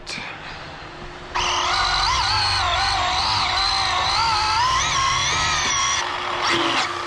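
A TLR 22 5.0 two-wheel drive RC car with a brass C block and ball diff runs on a new track layout, its electric motor whining high and steady after a quiet start, rising and falling through the laps.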